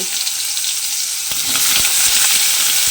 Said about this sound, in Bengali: সেই বেগুনগুলো আমি তেলের মধ্যে দিয়ে দেব।